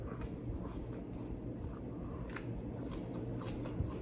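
Close, quiet chewing of a Chicago-style hot dog with crunchy pickle, soft crunches and wet bites, steady and unhurried, with no talking.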